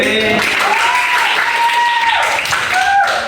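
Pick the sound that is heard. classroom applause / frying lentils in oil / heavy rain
classroom applause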